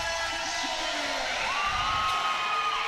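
Large crowd cheering and whooping at a Junior B lacrosse game in Orangeville, a steady sustained roar of many voices with shouts rising through it, filling the arena.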